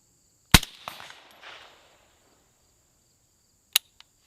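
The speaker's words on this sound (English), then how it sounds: "we'll shoot the big plate down there and see if I can hit anything." An AR-15 rifle firing Fiocchi .223 rounds at a large steel plate outdoors, one sharp loud crack with a rolling echo, then after a pause another crack and a faint later tick; crickets hum in the background.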